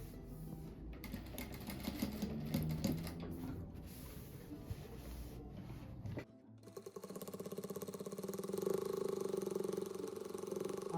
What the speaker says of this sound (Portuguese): daí eu vou vir aqui e vou passar mais uma costura desse lado assim